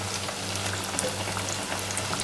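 Batter-dipped bread slices frying in hot oil over low heat, producing a dense, constant close-up sizzle with fine crackling throughout and a low steady hum beneath.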